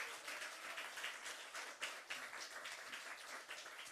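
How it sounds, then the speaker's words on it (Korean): A church congregation claps together in a Sunday service, a soft, steady patter of many hands that stays fairly quiet and far throughout, with no talk over it. "우리 박수로 격려하겠습니다."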